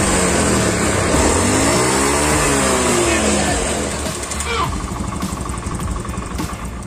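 A Honda Beat FI scooter engine with an unstable idle runs loud and close, its pitch drifting up and down with uneven surges before settling into a rougher, lower running note.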